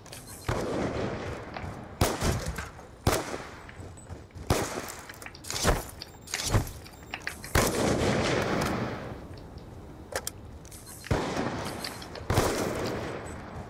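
Repeated loud gunshots in Black Ops 2, sharp blasts spaced a second or two apart with rumbling echoes between, mostly without talk.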